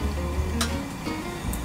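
Egg-filled bread-roll batter sizzles steadily in a pan at a solo campsite, close and fairly loud, with a couple of sharp ticks and pops over the hiss.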